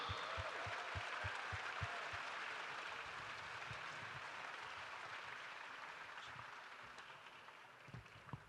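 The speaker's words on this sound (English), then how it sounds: "Give it up for Misha." Steady applause from an audience at a fight night Q&A in Zagreb, fairly quiet and even, with a few louder individual claps at the start and end.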